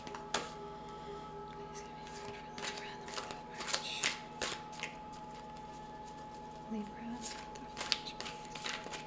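Tarot cards being shuffled, soft papery flicks and riffles repeating irregularly at close range, quiet, alongside a steady background hum.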